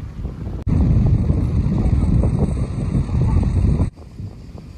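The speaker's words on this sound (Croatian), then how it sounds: "Jer snažan vjetar" Strong wind on a beach on Vir island near Zadar buffets the microphone in a loud, rumbling gust that starts abruptly, holds for about three seconds, then cuts off to a quieter breeze.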